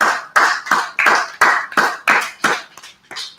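Several sharp claps in a loose, uneven rhythm, close and fairly loud, with short pauses between bursts and no talking.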